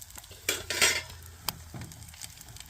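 Bacon heating in a metal mess tin at a camp, giving a soft crackling sizzle with clinks and scraping of a utensil against the tin, a few brief bursts over a quiet background.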